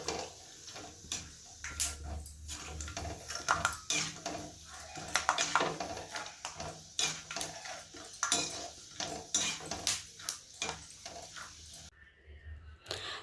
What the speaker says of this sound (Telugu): కొన్ని పల్లీలు కడాయిలో వేసి ఇవి కూడా పచ్చిపోయిందాక ఎంచుకోవాలి.